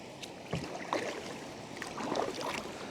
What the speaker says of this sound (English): This is an impressive waterfall